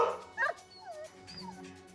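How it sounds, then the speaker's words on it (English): Puppies play nearby with short yips, whimpers and a quick bark or two, fairly quiet and intermittent in a calm room. "we see some puppies playing"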